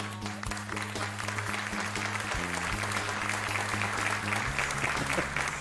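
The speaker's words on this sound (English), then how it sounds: "I love that applause, even if it's my mom." Studio applause plays on a radio talk show's opening, a dense continuous patter of clapping over a sustained musical backing throughout.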